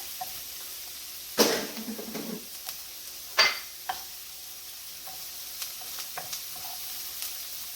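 Ginger goes into a sizzling pan of keto cauliflower fried rice, two sharp bursts of spitting sizzle followed by light scraping stirs over a quiet frying hiss, with no speech.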